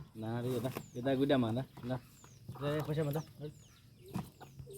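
Hen clucking near newly hatched chicks in a village, soft repeated clucks mixed with frequent talk from people nearby, with faint chick peeps above.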